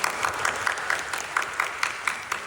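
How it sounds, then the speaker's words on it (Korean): Church congregation clapping together at the close of a summer retreat worship service, a steady rhythmic clap with regular accented beats, moderately close and fairly soft, with no voices over it. "하나님께 감사의 영광의 박수를 드립니다."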